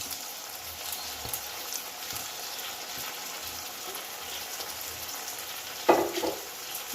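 Chilli prawns fry in a pan as dark soy sauce and tomato sauce are added, a steady soft sizzle throughout with a sharp louder hiss near the end as liquid hits the hot pan.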